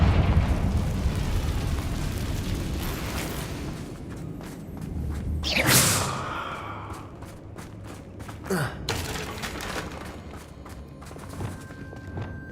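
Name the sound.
Confringo fire blast spell in Hogwarts Legacy, from a video game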